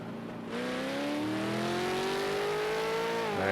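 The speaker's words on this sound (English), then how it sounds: "He lights up those tyres." V8 Supercar engine in a racing video game at Ruapuna Park, a sustained rising rev with tyres spinning as the car pulls away, loud and continuous from the half-second mark to the end.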